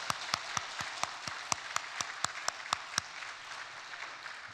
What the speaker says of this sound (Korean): 인사하실 때 큰 격려의 박수 보내주시기 바랍니다